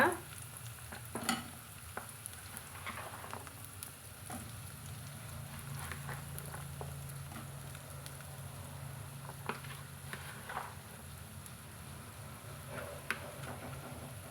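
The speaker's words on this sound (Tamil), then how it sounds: "லைட்டாக ஒரு வதக்கு வதக்கி விட்டுட்டு அதுக்கப்புறமா நம்ம புதுசாக கட் பண்ணி வச்சுக்கிற வெண்டைக்காயை அதிலே சேர்த்துக்கலாங்க" Okra and onion sauté in a hot pan for an okra stir-fry, giving a steady soft sizzle with scattered scrapes and taps of a spoon stirring, close and fairly quiet, with no talking.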